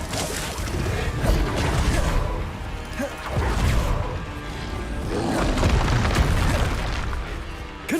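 Bombarda spell blasts in Hogwarts Legacy: dense, booming explosions with crashing debris and whooshing bursts, continuous and loud over several seconds.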